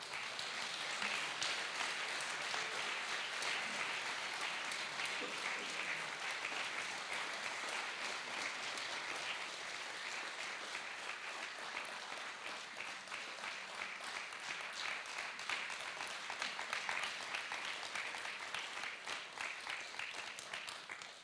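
Long, sustained applause from an audience fills a hall at the central ceremony for the Slovenian cultural holiday in Krško, following an award presentation, dense and even throughout with no break.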